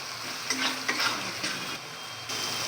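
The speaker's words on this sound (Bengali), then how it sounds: "এবার এটাকে ভালো করে কষাতে হবে।" Goat head meat is sautéed with spices in a pan, a soft continuous sizzle with a few scraping stirs of a spoon, close and fairly quiet.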